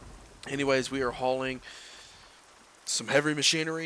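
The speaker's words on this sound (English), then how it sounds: "I apologize for the rain. I don't know why it's raining all of a sudden." Steady rain falls in American Truck Simulator, a soft even hiss that is clearest in a short pause and otherwise runs faintly beneath someone talking.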